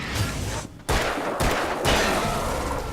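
Gunfire in the game Alan Wake: a dense, loud run of shots and blasts filling the short stretch, broken by a brief gap, with no talk over it.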